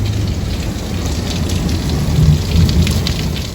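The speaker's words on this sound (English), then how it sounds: "you can't forget about those Florida thunderstorms." Heavy rain pours steadily during a Florida thunderstorm, a loud, dense wash of rainfall close by with low rumbling underneath.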